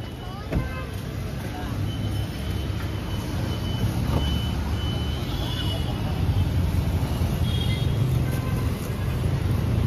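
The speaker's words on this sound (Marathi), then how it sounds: "इथे आता आमची गाडी आले ओला." An Ola cab rumbles close by in busy street noise, with faint, high reversing beeps and a voice or two in the mix.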